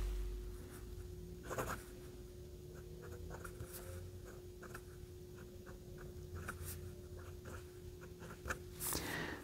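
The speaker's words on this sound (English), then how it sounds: "we'll see how this bobby nib on the Jinhao 35 writes" A Jinhao 35 fountain pen fitted with a Bobby medium nib scratches softly across paper in short repeated strokes, quiet and close, over a faint steady hum.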